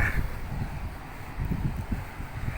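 Natural 9000 BTU portable air conditioner blowing air, a steady close-up whoosh of airflow buffeting the microphone throughout, with no talk over it.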